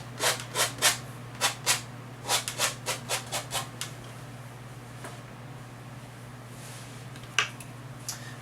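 Paint being scraped off with a tool during a summer landscape painting: about a dozen short, crisp scraping strokes in quick succession, then a quieter stretch with one late stroke.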